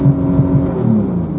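A 2017 Porsche 911 Turbo holds its revs in launch control, a steady close engine drone with a slight pitch wobble and no other sounds.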